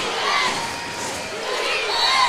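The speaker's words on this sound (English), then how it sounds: "you can hear the defense chants now starting to crank up here." Basketball crowd at a women's college conference tournament semifinal, a dense roar of many voices swelling in a sustained chanting wash that rises and falls, steady and fairly loud with no single voice standing out.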